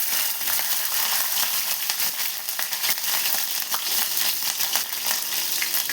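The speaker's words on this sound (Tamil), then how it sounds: "பச்சை மிளகா நல்லா வறுந்துருச்சு" Green chilli pieces fry in hot oil with popped mustard seeds, giving a steady, dense sizzle and crackle that stays close and continuous, with no talking.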